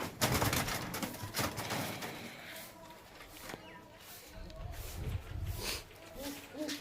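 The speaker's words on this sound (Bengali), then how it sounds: "প্রচুর ছটফটে পায়রা" Restless high-flying Andra pigeons coo and rustle inside a loft, their low calls running steadily under someone talking close by, with a few shuffling sounds.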